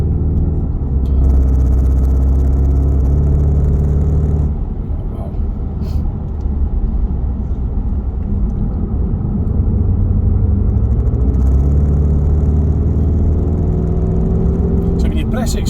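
Petrol Skoda Octavia vRS Mk3 engine accelerating on a road in Scotland, a loud steady low drone whose pitch rises and falls with gear changes, with a brief dip midway and speech over the engine.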